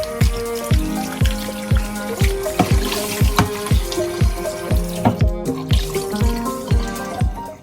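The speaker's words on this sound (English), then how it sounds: "where I'm from, we wash our meat" Tap water runs into a sink over lamb chops that were soaking in lemon water, with a steady splashing stream and regular sharp drips and knocks as the meat is rinsed.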